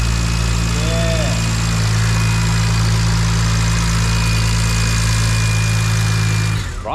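A single-turbo BMW E46 with a reported 100 hp power loss runs on a dyno, its engine droning loud and steady near the microphone for several seconds before cutting off abruptly at the end.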